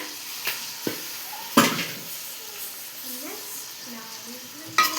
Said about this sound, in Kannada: ಮಿಕ್ಸ್ ಮಾಡ್ಕೊಂಬಿಡೋಣ ಈ ರೀತಿ